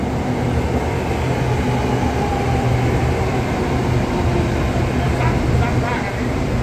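A short four-car red line commuter train rolls past Chatuchak station with a continuous broadband rumble and wheel noise that stays steady and fairly loud from start to finish.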